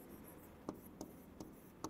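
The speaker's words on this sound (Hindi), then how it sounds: "यहाँ लिखते हैं" Pen or chalk strokes from writing notes by hand tap and scrape softly, four brief evenly spaced marks over a faint background.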